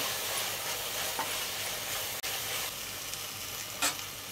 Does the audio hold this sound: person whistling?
no